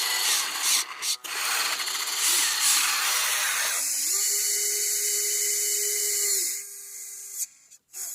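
Small electric motors on the axles of an RC truck whine as it drives, running on a 3S battery. A high, even motor tone with gear whir swells and drops with throttle changes, close up, and no talking is heard.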